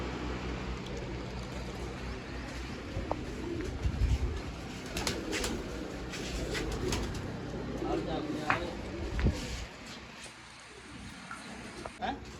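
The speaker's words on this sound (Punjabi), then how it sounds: "ਬਾਈ ਦੇ ਕਬੂਤਰ ਆ ਗਿਆ" Soft cooing of pigeons rises and falls over a murmuring background at a village pigeon-flying contest, with people talking at times and a few brief knocks.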